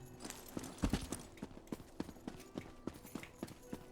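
Horse hooves clip-clop in Elder Scrolls Online, a steady rhythmic trot of close, moderately loud footfalls with one heavier double stamp near the start.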